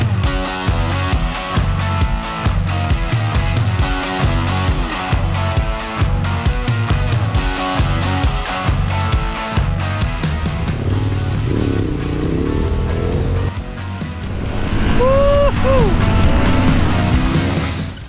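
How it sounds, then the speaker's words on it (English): A big V-twin motorcycle engine runs with a deep, pulsing throb, then revs higher and louder toward the end; close and continuous, no talking. "The V-twin engine is pulling very smooth."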